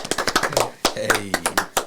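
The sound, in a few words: podcast hosts clapping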